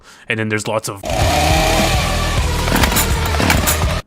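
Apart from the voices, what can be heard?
cartoonish chainsaw stalling sound effect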